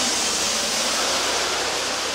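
Rain falls outdoors as a dense, steady hiss of broadband patter, constant and fairly loud throughout with no other sounds standing out.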